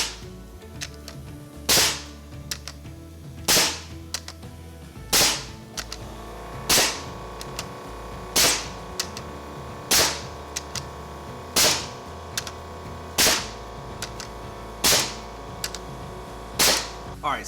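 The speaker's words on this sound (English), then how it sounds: "We're just gonna start sinking these nails, driving them down through all the way" A nail gun fired in single-shot mode, powered by a Milwaukee M18 cordless air compressor: sharp, evenly spaced cracks, about ten of them over a low hum, each shot loud and close.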